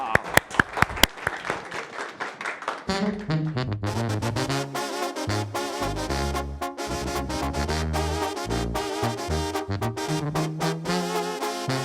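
A short burst of clapping for a performer at a live musical show gives way to band music with bass and keyboards that plays on to the end.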